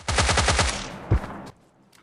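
A rapid burst of M416 assault rifle fire in PUBG Mobile Lite, about nine quick shots in a steady rhythm, followed by a single heavier thump and a quiet tail.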